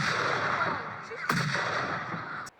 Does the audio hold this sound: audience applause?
no